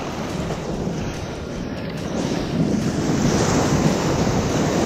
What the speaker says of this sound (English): Perfect blue water, light wind, waves connecting all the way from the outside.